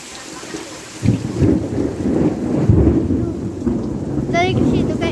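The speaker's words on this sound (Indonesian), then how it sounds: "Lu ada petir." Thunder rumbles loud and close during steady rain outdoors, with a heavy crack about a second in and rolling rumble after it, all over constant rainfall.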